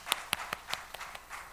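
Faint, sparse hand claps in a church service after a sermon, a handful of separate claps spaced about a fifth of a second apart, with no voices.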